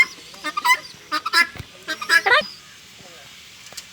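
A chicken calling in short loud squawking bursts, several harsh cries clustered together and then trailing off, with a person talking in between.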